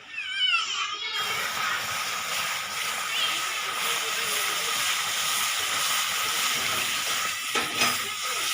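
Water poured into a hot pan of besan pitla sets off a loud, steady hiss and sizzle that starts abruptly and continues unbroken, close up, with faint voices in the background.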